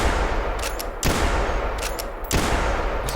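Shots from a .405 lever action rifle in the hunting game theHunter Classic, three loud booming reports spaced about a second apart, each ringing out over a dense rumbling background with no talk.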